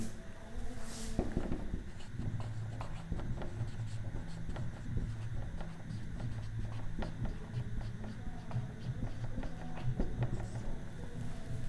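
Pen or pencil scratching on paper while a math solution is written out by hand, a steady run of short strokes and taps, close and fairly quiet, continuing throughout.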